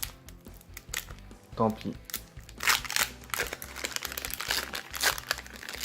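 A 1999 Digimon card booster pack wrapper crinkles and tears open up close, a dense run of crackling plastic rustles, while someone speaks French briefly over it.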